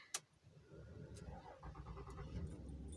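A 2006 Ram 3500 diesel truck cranks and fires up, a low steady engine rumble settling in after a sharp click at the start, heard from inside the cab.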